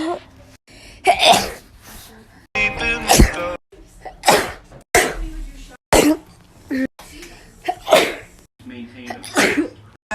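A string of sharp, loud sneezes bursts out one after another at close range, mixed with throat clearing and coughs, with short pauses between each burst.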